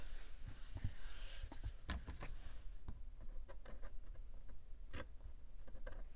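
Scissors cut through fabric for a collage page with safety pins, giving soft, faint snips and crisp ticks, repeated irregularly over a low steady hiss.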